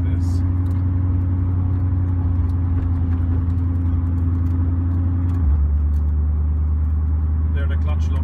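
A Koenigsegg Regera engine holds a steady, even idle with a low droning hum, shifting slightly lower partway through as the clutch engages; a person talks over the continuous engine note.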